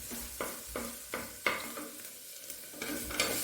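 Chunks of carrot, potato, green peas and green chilli go into onions frying with curry leaves, giving soft, faint sizzling and a series of quick rhythmic stirring scrapes and taps, no voices.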